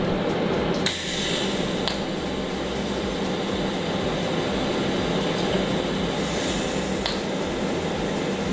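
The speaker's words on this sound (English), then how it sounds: "I was busy continuing to grind and weld to get the turbo mounted" An angle grinder cutting metal while a turbo is mounted on a V6 Toyota Camry, a steady loud harsh grinding roar throughout with a few brief sharper clicks, close by with no voices.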